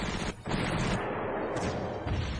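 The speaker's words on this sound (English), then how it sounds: "This 88 gun is having the time of its life right now" 88 gun fire in the Panzer Corps strategy game, heavy booming shots with dense crackling bursts, loud and continuous with a brief dip between volleys.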